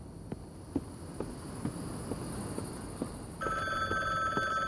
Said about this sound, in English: There is the phone again.